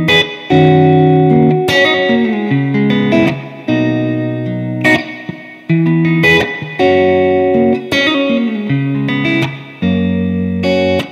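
A NUX MG-300 multi-effects unit plays its vintage drum machine preset 9B, a loud, steady electronic rhythm pattern with sustained tonal layers and regular accented hits, heard alone.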